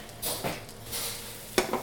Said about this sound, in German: Zuerst die Zwiebeln kurz anbraten